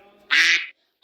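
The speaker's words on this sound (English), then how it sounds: "duck," A single loud, close duck quack, one short harsh call standing alone after a faint murmur.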